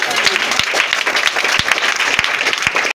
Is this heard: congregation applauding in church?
yes